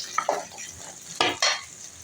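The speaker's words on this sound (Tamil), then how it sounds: "2 பச்சை மிளகா போடுறேன்" Green chillies fry with onion, ginger and garlic in a pan for chicken kulambu. Brisk scraping stirs cut through a close, steady sizzle in a few quick strokes.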